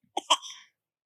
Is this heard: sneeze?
yes